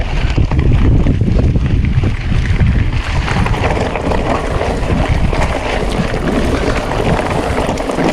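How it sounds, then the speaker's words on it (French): A light wind blows steadily near the beach on a mountain-bike course in Malta, a constant loud rushing buffet across the microphone with no break. "Il y a un petit vent pour te rafraîchir."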